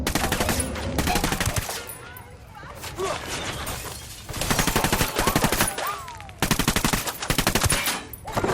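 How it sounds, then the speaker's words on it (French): Rapid automatic gunfire in the video game Ghost Recon Wildlands comes in long bursts separated by short pauses, loud and near, with occasional sharp cracks and game voices speaking between the volleys. "Ça tire pas loin de la Senda."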